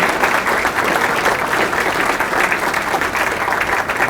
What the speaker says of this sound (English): let's have one more round of applause if you don't mind for this great day